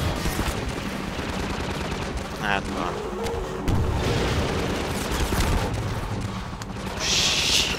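Dense, continuous gunfire and explosions from the video game Half-Life 2 fill the scene, loud and busy with sharp bursts, while a player talks over the action.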